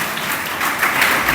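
A crowd at a village honouring ceremony gives hearty applause, a thick continuous clatter of many hands that swells slightly toward the end, with no talking over it.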